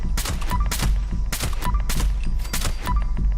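Gunfire in the video game Fallout 76: loud, sharp shots in quick bursts of about eight cracks in roughly three seconds, with small pinging tones between them and no talk.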